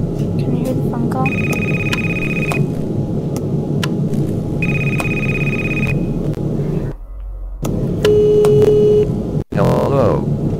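In a video game, an electronic phone rings in two long bursts over a low rumble, followed by a brief drop-out and a different beep-like tone.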